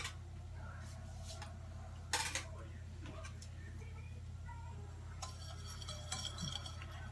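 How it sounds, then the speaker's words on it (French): A whisk or spoon scrapes and clinks against a bowl while flour is stirred into milk for pastry cream, faint irregular taps and scrapes over a low steady hum, with a person talking throughout. "Moi, je mélange la farine."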